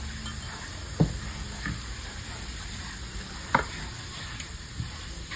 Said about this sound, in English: We're going to cook this to kind of cook out the rawness of that flour.